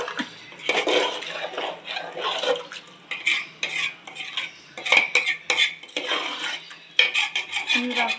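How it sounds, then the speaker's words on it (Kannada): A glass of water goes into a pan of liver curry, followed by busy stirring: a metal spoon clinks and scrapes against the pot in irregular bursts. "ಇದಕ್ಕೆ ನಾನು ಇವಾಗ ನೀರು ಹಾಕ್ತಾಯಿದ್ದೀನಿ"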